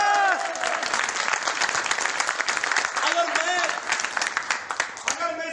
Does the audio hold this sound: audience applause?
yes